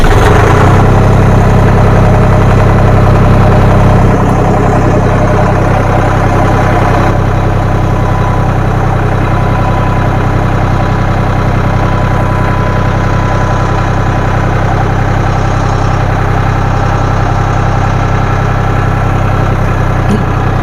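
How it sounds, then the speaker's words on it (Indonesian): An Agrolux four-wheel tractor engine starts up and settles into a loud, close diesel idle, a steady, deep rumbling drone with constant vibration and no voices over it. "Beginilah kita cara menghidupkan traktor kita"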